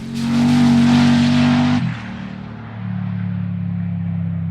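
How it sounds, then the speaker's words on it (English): Turbocharged V8 VL drag car on a solo bye run at a drag racing shootout, engine roaring hard under full acceleration, then dropping off abruptly and settling into a lower, steady drone as it pulls away. "first up it is a bye run for Justin Schmidt in the VL Turbo V8 from Precision Racing"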